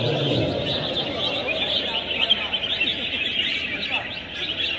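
Several birds chirp and trill at once at a bird song contest, a busy layered chorus of bright calls close by, continuing without pause over a low background murmur.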